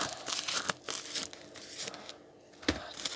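Plastic packaging for a new keyboard and mouse is cut open and pulled apart, giving close, intermittent crinkling and tearing with a few sharp crunches and short pauses between them.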